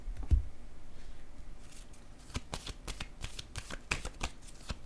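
Playing cards handled on a table, with a series of light, quick card snaps and taps scattered through a quiet background, close and fairly soft, no talk.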